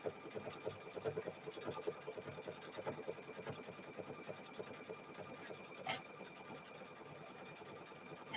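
A sewing machine stitches a decorative feather stitch on a quilt, a quiet, rapid rhythmic patter of needle strokes running steadily nearby, with one brief clack partway through and no speech.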